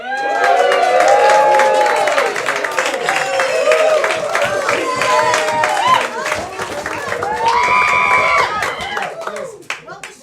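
A live puppet-show audience cheers and claps loudly and steadily, with whoops and shouting voices over a dense bed of applause that swells again near the end before dropping off.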